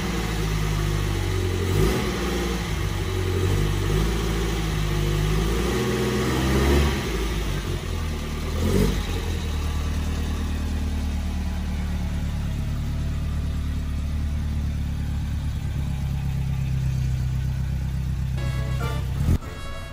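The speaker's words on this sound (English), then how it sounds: "Hear the engine purr one more time." A 1972 Alfa Romeo Spider engine runs steadily nearby outdoors, idling with a low rumble and a few revs rising and falling, loud and continuous.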